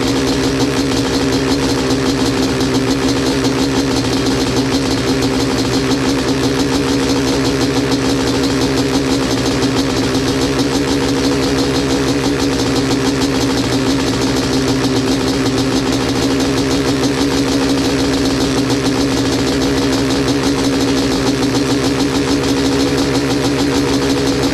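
A Honda CR500 engine fitted in a Schwinn bicycle idles steadily on its first heat cycle, a loud, continuous buzzing drone held at a slightly raised idle throughout with no talk.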